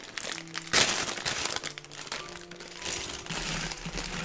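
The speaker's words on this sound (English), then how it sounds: "the stream so far has been like upfront crinkling" Plastic packaging from a LEGO set crinkles and crackles up close, with a sharp crunch near the start followed by irregular rustling bursts over a few seconds.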